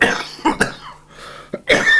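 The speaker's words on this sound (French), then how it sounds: "J'ai toussé parce qu'elle est un peu forte." A few harsh, close coughs in quick succession, followed after a short pause by another louder cough.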